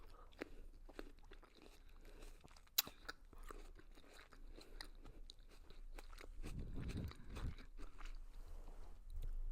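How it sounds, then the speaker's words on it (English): Ice-cold frozen grapes crunched and chewed close up, a series of crisp bites and wet mastication with a sharp crack near the start, no talking. "Another grape crunch ASMR coming your way."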